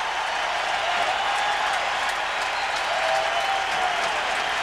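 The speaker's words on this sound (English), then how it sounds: "you get a standing ovation like that on the road" Baseball crowd at a Giants vs Padres game in San Diego rising for a standing ovation, a loud steady roar of applause and cheering that stays even from start to finish.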